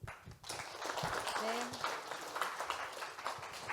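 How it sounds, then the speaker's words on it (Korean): A conference audience at an academic law symposium claps steadily for several seconds, a dense patter of applause heard from within the hall while a voice speaks over it. "첫 번째 세션 좋은 의견을 전해주신 우리 발표자분들, 토론자분들께 다시 한번 큰 박수 보내주시면 감사하겠습니다."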